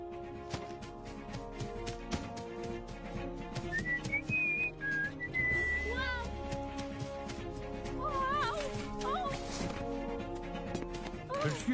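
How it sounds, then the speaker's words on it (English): A person whistles a short, wavering tune in a few bursts over background music, followed by more whistled chirps. "why were you whistling like that?"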